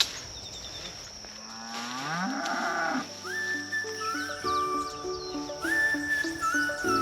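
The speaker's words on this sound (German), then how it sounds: "jetzt gehen wir hier hinter zu Girlie, zu der Kuh hier." Girlie, a farm cow, gives a long, deep moo that rises in pitch. Tonal farm-machine or music sounds follow behind it.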